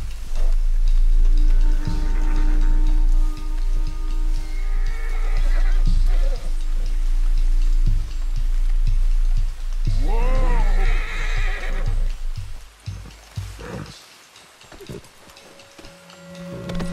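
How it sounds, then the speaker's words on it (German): An Arabian horse in the Red Dead Redemption 2 video game gives a loud, wavering neigh amid clip-clopping hooves and game sounds, with the rumble of a mount close by. "Das ist ein Araber. Ah, cool. Sehr bekannte Pferde."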